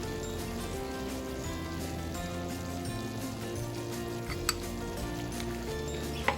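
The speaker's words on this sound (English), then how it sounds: "I'm gonna add in a tomato sauce" Eight ounces of tomato sauce hit a hot pan, giving a steady, moderate sizzle and bubbling heard up close, with a couple of sharp clinks of a utensil against the pan.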